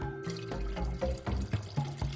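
Water runs in a steady stream, as used for a simple experiment lighting up a flowing column of water with a flashlight. It gives a short, close, continuous splashing rush.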